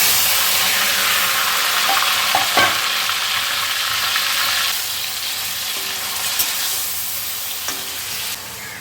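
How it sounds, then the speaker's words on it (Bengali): Shrimp frying in oil in a pan, salted and turmeric-coated for a papaya and potato curry, give a loud, steady sizzle with occasional stirring scrapes and clinks, close up and continuous without talk. "এবার আমি চিংড়ি মাছটা ভেজে নেবো"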